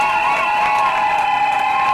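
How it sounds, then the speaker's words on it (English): Wedding guests clapping and cheering after a blessing at a wedding ceremony, a steady wash of applause with crowd voices over a held musical tone in the background. "Let's give that a hand of applause."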